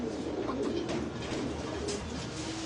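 A pair of racing pigeons, one male and one female, coo softly and repeatedly in a loft, with a continuous low murmur of birds close by.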